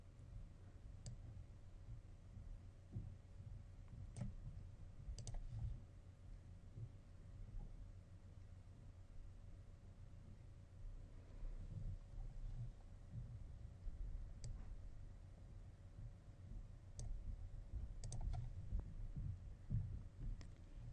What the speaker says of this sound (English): If I zoom in by clicking and dragging with my mouse